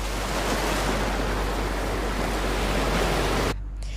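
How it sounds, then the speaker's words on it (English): A dense, muffled rushing wash like being submerged, steady and loud throughout, then cutting off abruptly near the end. "that is the way how to do the underwater effect sounds on your video"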